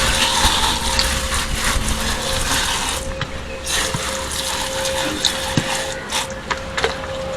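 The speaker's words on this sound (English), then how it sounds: "So we spray with water." Water sprayed onto a Brembo brake caliper from a Skyline R34 GTR, a close, steady hissing spray with a faint tonal hum and intermittent knocks and splatters as the stream shifts.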